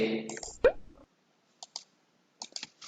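A computer mouse clicks a few times, crisp and close, in short isolated taps spaced across near-silence, following a brief stretch of voice at the start.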